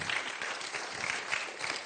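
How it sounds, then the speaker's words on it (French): A live audience at a Bondy suburban talk event breaks into steady applause, dense and continuous clapping at moderate level throughout, with no voices over it. "En plus, ils m'applaudissent."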